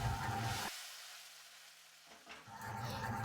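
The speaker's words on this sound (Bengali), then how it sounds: "ভালো করে নেড়ে চেড়ে কষে নিন।" Spice paste for a mixed vegetable curry sizzles and scrapes as it is stirred and fried in a wok; loud crackling fades to near quiet partway through, then the frying noise returns strongly.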